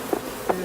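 Bees buzzing at a hive kept in traditional bee skeps, a steady droning hum with two brief louder swells.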